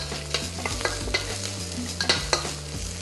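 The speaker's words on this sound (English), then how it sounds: "I'm just gonna get a little bit more heat. And so with garlic and ginger. We're gonna go very fast here." Garlic and ginger stir-fried over high heat in a hot pan, with a steady loud sizzle and quick scraping stirs and utensil clicks repeating throughout, no talking.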